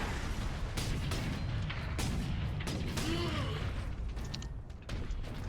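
Heavy booming shots from a plasma cannon in a video game fire repeatedly among mechanical clanks and bursts, loud and close.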